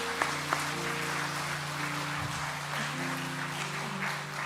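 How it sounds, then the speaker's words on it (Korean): Church congregation applauding after a short-term mission testimony, a steady broad patter filling the room at moderate level, with a low sustained hum beneath and no talking over it. "박수하겠습니다"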